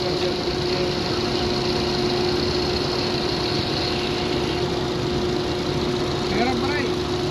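A 2011 Ford Fiesta automatic engine idles steadily nearby, a constant low hum with a faint whine, while a voice speaks briefly near the end.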